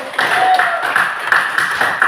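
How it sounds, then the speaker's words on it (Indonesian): A group of participants in an academic coaching session clapping hands briefly, a short burst of moderate clapping mixed with murmuring voices in a room. "Tepuk tangan dulu."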